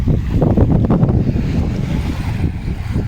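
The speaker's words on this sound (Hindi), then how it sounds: "और पानी भी जो यहाँ का है साफ़ सुथरा है और ये लहरें आप देख सकते हैं" Lake water churning against the shore in a loud, continuous wash, blended with heavy wind buffeting the microphone and no voices.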